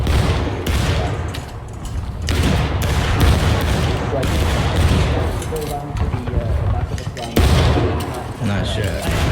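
Dense musket gunfire from the Civil War game War of Rights crackles almost continuously, with sharp close shots layered over a distant volley. Players talk over the shooting.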